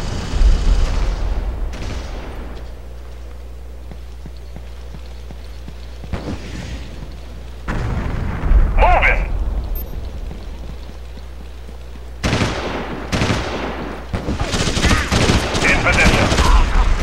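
Heavy RPG blasts and sustained gunfire in the PS2 shooter Ghost Recon Advanced Warfighter, loud booming impacts and rattling automatic bursts coming in waves, with radio-style voices talking between and over the fighting.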